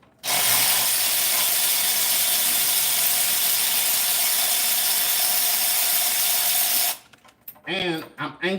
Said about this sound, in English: Pull these spark plugs out over here.